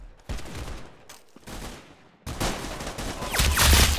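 Gunfire in the video game Arsenal rings out in a quick burst of sharp shots, followed by a quieter stretch and then a louder, denser volley of shooting near the end.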